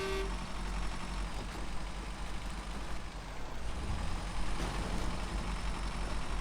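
In the SnowRunner game, a Ziks 605R truck engine with a tractor-like note runs as a steady, moderately loud low rumble without a break for several seconds.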